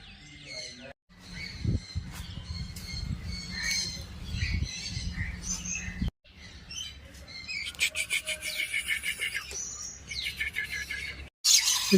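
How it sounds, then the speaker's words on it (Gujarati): Black parrots at the Vadodara zoo squawk and chirp while jostling over food, harsh overlapping calls in bursts that come and go, with a short silent gap and steady background noise. "એકદમ બ્લેક કલરના પોપટ છે. આપ જોઈ શકો છો જમવા માટે પડાપડી કરી રહ્યા છે."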